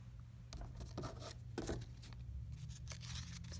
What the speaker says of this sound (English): you can just take your scissors and just kind of round it out some